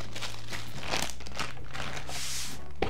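Plastic packaging from action camera accessories crinkles and rustles in quick, close bursts while being opened, with no speech.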